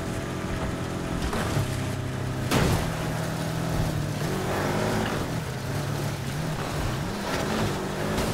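A BMW X6 engine races in the video game Need for Speed Heat, a loud continuous drone with rising and falling revs and shifting pitch, plus a sharp burst partway through.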